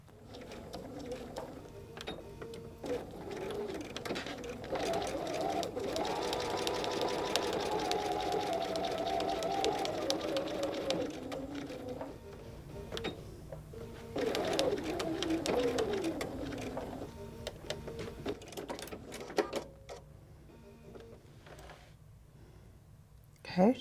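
A sewing machine stitches satin binding onto a double lush velvet blanket, running in a long, steady mechanical whir for most of the stretch, with a brief pause and a couple of softer bursts near the end.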